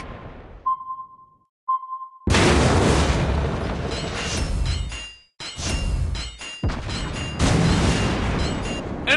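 Torpedo hits and explosions on a ship in World of Warships, with the German battleship KMS Nassau: two short sonar-like warning beeps, then a long run of heavy, loud blasts and rumbling booms broken by brief gaps.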